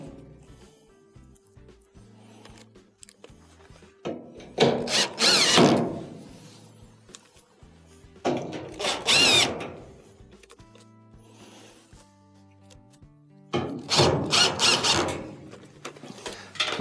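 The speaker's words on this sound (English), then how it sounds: "Next, go around and reinstall your Phillips screws." A power screwdriver drives Phillips screws back into a dryer during a drum belt repair, in three separate whirring bursts with quiet pauses between them.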